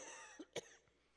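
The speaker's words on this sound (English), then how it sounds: "I have a cough which has come on just now" A single sharp cough rises out of a quiet, steady room tone, with a softer throat sound just before it.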